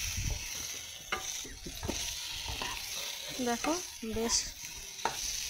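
Potatoes stir-fried in spice paste and oil, with a steady sizzle and scraping of a spoon in the pan, close and fairly loud, while someone speaks briefly over it.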